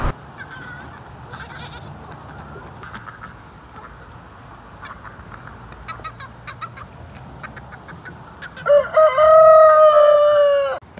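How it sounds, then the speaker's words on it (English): Chickens and roosters in a backyard flock cluck softly and intermittently at a moderate distance, then a rooster crows loudly and close near the end. "How many roosters you got, Mo?"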